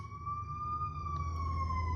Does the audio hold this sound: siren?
yes